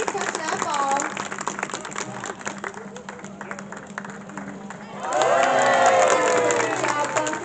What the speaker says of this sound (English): she's going to need one last round of applause from you all out there